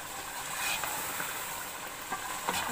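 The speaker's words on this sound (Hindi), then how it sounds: "अब इसको हम अच्छी तरह मिक्स करेंगे।" Beef stew being stirred in a pot as it cooks, a steady sizzling hiss with soft scraping strokes of the spoon, close and even, with no talking.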